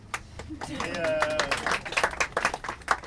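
A scattered round of audience clapping at a political meeting, irregular and moderately loud, with voices and murmuring mixed in.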